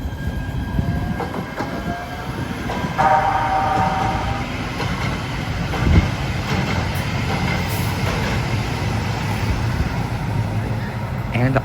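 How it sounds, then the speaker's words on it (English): A Los Angeles Metro A Line train pulls into a station, steady rumble and rail clatter with brake squeal and tonal whines rising and fading over about twelve seconds, with voices nearby. "Looks like a train is already arriving as well."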